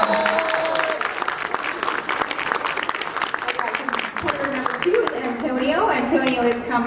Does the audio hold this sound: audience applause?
yes